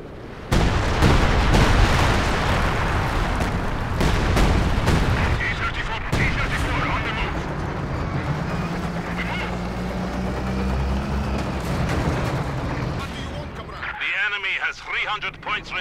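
A T-34 tank comes under fire in the Company of Heroes strategy game: repeated booming artillery blasts and rattling gunfire, loud and dense early on, thinning out later while voices talk over the battle.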